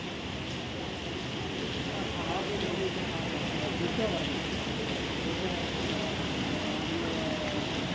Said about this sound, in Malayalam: രാവിലെ തൊട്ടിട്ടുള്ള മഴയാണ് ഇവിടെ